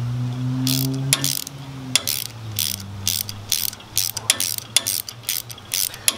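Ratchet wrench tightening rubber-mounted bolts on a Green Touch trimmer rack, a quick run of sharp clicking strokes with short pauses, close and fairly loud, no talking.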